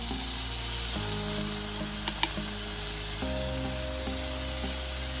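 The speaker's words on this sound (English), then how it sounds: "The onions are beginning to brown, so I'm gonna go ahead and put in some garlic." Chopped garlic sizzles among browning onions in a hot pan, a steady close frying hiss with a low tonal hum underneath and a few faint clinks.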